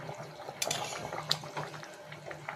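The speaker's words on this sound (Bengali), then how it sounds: "এখন ফুটছে মাংসটা" Chicken curry bubbling in a pot during home cooking, a soft, steady simmer with a few sharp clinks of a spoon or pot lid against metal.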